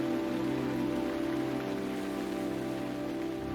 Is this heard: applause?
no